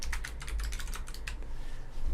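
Quick keystrokes on a computer keyboard, a close, rapid burst of clicks lasting about a second and a half before stopping, with no talk.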